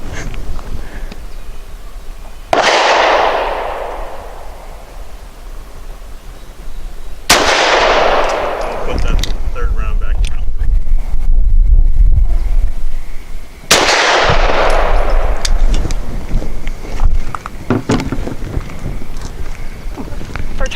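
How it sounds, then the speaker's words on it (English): Three loud, sharp 9mm pistol shots from a Springfield XDe firing Hornady 100 grain Critical Defense rounds at an outdoor range, each crack followed by a long decaying echo, spaced several seconds apart with wind noise between. "I'm shooting the Hornady 100 grain critical defense"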